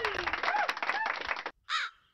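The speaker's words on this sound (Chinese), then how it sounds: "乌鸦，" Crow caws played as a sound effect from a high-end phone sound card: a long raspy caw that fills the first second and a half, a brief gap, then one shorter caw, loud and close.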